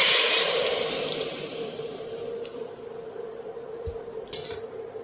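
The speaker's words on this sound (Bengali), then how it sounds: "এবার আমি ডালটা ঢেলে দেব, সিদ্ধ করে রাখা ডালটা" Boiled moong dal for a Bengali tetor dal with bitter gourd, bottle gourd and drumstick pours into a pan with a soft, steady liquid splash and sizzle that slowly fades, followed by a light clink of a utensil.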